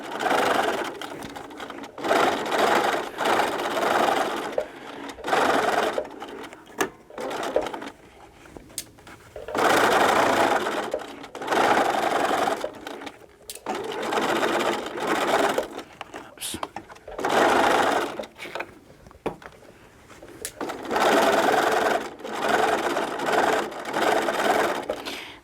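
A sewing machine runs in repeated bursts, stitching around a small curved fabric basket with six-petal sides; the motor hums steadily for a few seconds, pauses, then starts again, with a person talking between runs.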